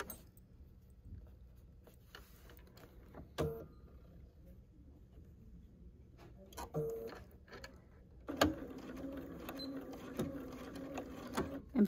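A sewing machine backstitches a 1930s sampler quilt block, with short, quiet mechanical whirring bursts between pauses and handling noise, then a louder stretch of steady stitching near the end.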